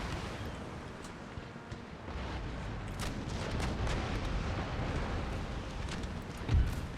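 Warship cannon volley from a second-rate ship of the line firing on a sixth-rate in Empire: Total War, a rolling mass of distant booms and crackling gunfire under continuous battle noise, with a heavier thump near the end.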